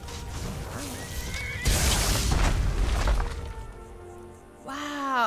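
A horse whinnies loudly at the start and again near the end, with thuds and a burst of clattering noise between, in a Skyrim game soundscape with a peddler's horse.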